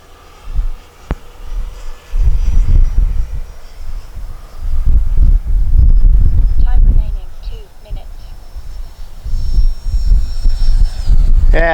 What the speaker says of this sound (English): It's actually very windy.